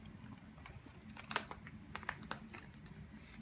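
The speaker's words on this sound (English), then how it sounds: "I'm gonna shuffle a little bit more for you." Tarot cards are shuffled by hand, giving soft, quiet papery riffles and a few sharper flicks and taps, close and alone.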